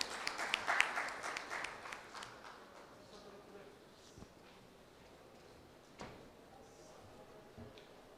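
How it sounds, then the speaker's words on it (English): An audience at a pre-conference medical workshop applauds a speaker, a moderate burst of clapping that fades away within a couple of seconds, followed by quiet room tone with a few faint knocks. "I request all the audience to give a very huge round of applause for sir"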